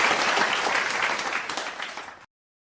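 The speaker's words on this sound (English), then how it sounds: "Please give her a virtual applause." Applause from a group at a morning devotion, a brief burst of dense clapping lasting about two seconds before cutting off abruptly.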